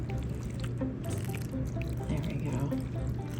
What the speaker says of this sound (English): now we just pour our cinnamon custard over